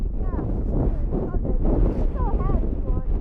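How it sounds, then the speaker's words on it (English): Strong wind roars and buffets the microphone while travelling the Dempster Highway, a loud, continuous gusting rush with faint voices mixed in. "Yeah, I'm getting blown around a lot. Yeah, it's windy."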